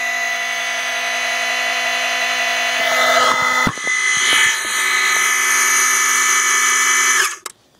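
A Viewloader paintball hopper's motor whirs at high speed, a steady loud buzzing drone with clatter and a brief knock midway, then cuts off abruptly near the end.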